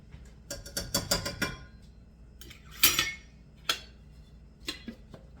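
Spoon stirring flour into mushrooms and onion in a pan, giving quick metallic scrapes and taps, a clustered burst at first and then a few scattered clinks, close and fairly quiet.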